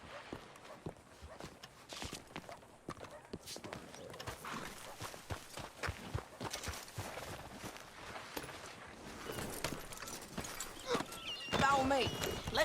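In the game Red Dead Redemption 2, horse hooves clip-clop steadily at walking pace in an open setting, under a soft ambient wash with faint voices talking.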